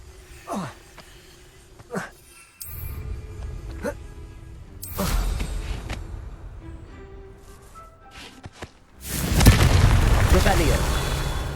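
Confringo blasting spells go off in Hogwarts Legacy as a string of sharp bursts, with a larger rumbling explosion swelling near the end, set among spoken spell incantations and game ambience.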